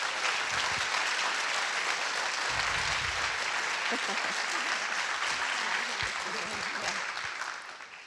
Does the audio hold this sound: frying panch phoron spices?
no